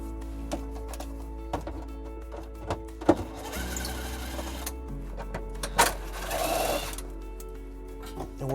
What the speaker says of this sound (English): We're just going to take those out using a 10mm socket.